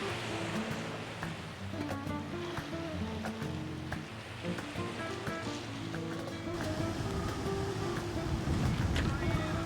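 Strong wind buffets the microphone on a hilltop above clear sea at Playa Mujeres, a steady loud rumbling roar that swells toward the end.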